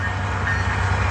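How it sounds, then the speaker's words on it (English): A train rumbling past at a steady, loud level, low droning mixed with a broad rushing noise, heard alone with no speech. "Let this train go by."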